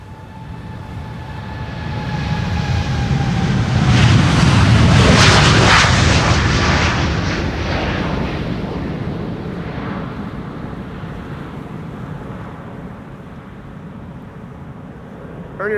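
Airliner taking off from Polderbaan runway 36L at Amsterdam Schiphol on a windy day: a broad roaring jet engine builds to a loud peak and then slowly recedes into the distance, heard alone without talk.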